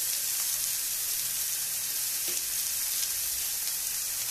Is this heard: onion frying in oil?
yes